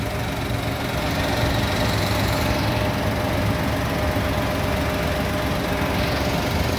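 A 2015 Toyota Agya G automatic idles with a smooth, steady hum and a light, even ticking, close and constant throughout, with no talking.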